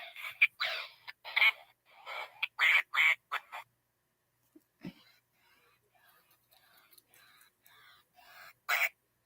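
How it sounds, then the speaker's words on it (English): Purple Easter toy duck with a sick-sounding quack gives a run of raspy, squawky quacks up close, followed by a person talking and one last quack burst. "He does quack once in a while."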